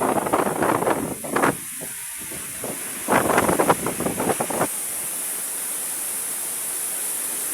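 Strong steady roar of typhoon wind and rain during Typhoon Kristine, with gusty bursts of heavier noise early on settling into a constant hiss.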